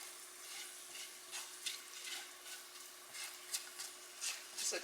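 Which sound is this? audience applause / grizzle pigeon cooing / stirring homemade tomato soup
stirring homemade tomato soup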